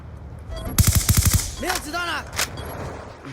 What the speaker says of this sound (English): I just pick up this Remington and shoot him